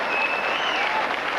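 Wrestling crowd at a 1984 tag-team bout breaks into loud, sustained applause, a dense wash of clapping that holds steady throughout.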